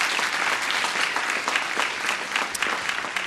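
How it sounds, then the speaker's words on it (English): An audience at a conference debate on Africa's digital economy applauds its panelists with steady, moderately close clapping that continues throughout. "Please give them a round of applause."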